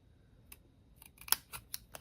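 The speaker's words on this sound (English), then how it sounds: "I want to take my scissors, and we're going to snip up to this score line" Scissors snipping paper up to score lines for a papercraft valentine, a few quiet, close, crisp cuts in quick succession near the end after a near-silent start.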